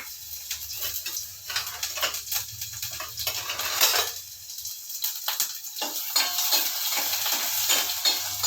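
Finely chopped onion fries in hot oil, giving a steady sizzle broken by bursts of stirring and scraping against the pan, close and moderately loud.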